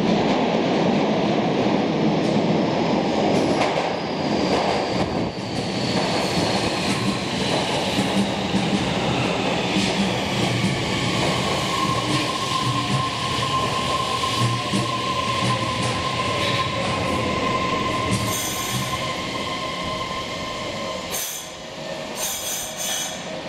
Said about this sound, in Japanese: 1番線に谷上行き電車が参ります。